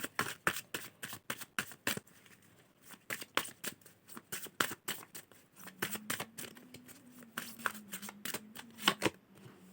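Tarot cards are shuffled by hand in quick, crisp riffling bursts. The papery flutters repeat close to the listener, and a faint low hum comes in partway through.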